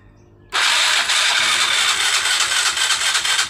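After a quiet moment, a motorcycle engine abruptly starts and settles into a loud, steady running rumble that continues to the end.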